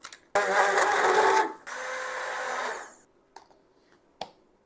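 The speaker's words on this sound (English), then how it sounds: "But then I just blend her up with a stick blender." A stick blender whirs loudly through strawberries in two close bursts, the first higher and harsher, the second steadier, then cuts off, leaving a few faint clicks and knocks.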